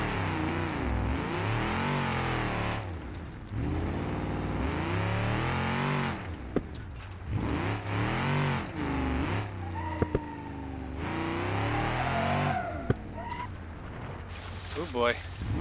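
Car engine revving in BeamNG.Drive with a troublesome torque converter, a loud continuous engine drone that rises and falls in pitch, punctuated by a few sharp clicks, with talk running over it.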